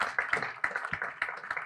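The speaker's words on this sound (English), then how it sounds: "a round of applause for her" An audience at a launch event for Shatta Wale's Shaxi claps in a quick, uneven patter of distinct hand claps, close and moderately loud, short and fairly sparse rather than a full roar.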